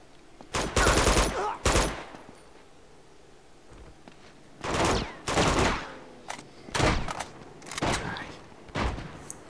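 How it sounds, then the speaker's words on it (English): Gunfire in the video game Uncharted 2, with about half a dozen loud bursts of rapid automatic shots broken by short quieter gaps. "What are y'all shooting at?"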